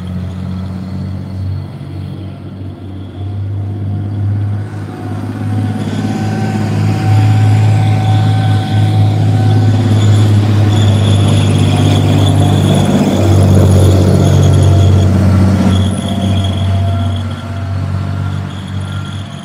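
A CRARRV armoured recovery vehicle drives past at a British Army tank display, a loud heavy engine roar with squealing, rattling tracks that swells as it comes closer and then stays strong.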